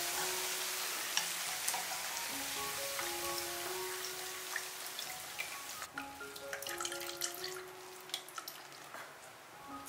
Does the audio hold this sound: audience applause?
no